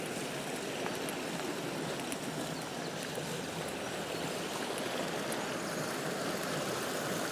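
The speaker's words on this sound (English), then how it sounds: "Down there is a small waterfall" A small waterfall rushes in a steady, unbroken broadband roar, close and constant, with no voices.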